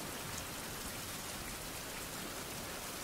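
Steady rain falls in the survival video game Fountain of Youth, a constant soft hiss of drops that stays even throughout, with no voices.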